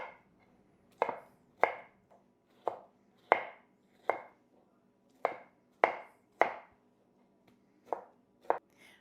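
Tomatoes are chopped with a knife on a cutting board for homemade salsa: a steady run of about a dozen crisp, close knife strikes at an uneven but regular pace, with no talking.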